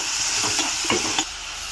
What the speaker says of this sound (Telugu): ఇప్పుడు దోరగా ఫ్రై చేద్దాము